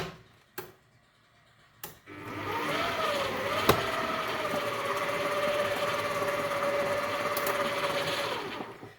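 Electric mixer whirring steadily at low speed through mascarpone cheese, a continuous close hum starting after a couple of clicks and running without pause.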